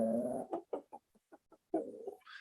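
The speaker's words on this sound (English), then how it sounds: "continued their domestic business of quietly scratching and pecking, rustling in the undergrowth and making small, comforting noises" Hens cluck softly nearby in a loose run of short, irregular calls, opening and closing with longer murmuring clucks.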